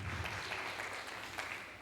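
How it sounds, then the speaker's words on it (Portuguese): Faint, continuous applause from a church congregation, a soft even patter of many hands clapping at a distance. "dê uma salva de palmas para o Senhor Jesus"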